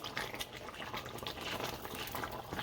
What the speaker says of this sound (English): So we're just gonna dump those in and spin her around like so